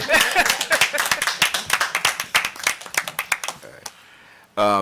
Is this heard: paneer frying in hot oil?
no